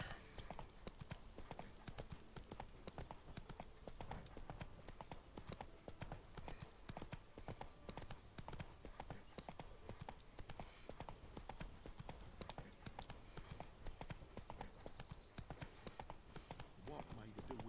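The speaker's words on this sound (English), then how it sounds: "Whoa there, Roach." Horse hooves clip-clopping in the video game The Witcher 3, a fast steady galloping rhythm throughout under game dialogue and music.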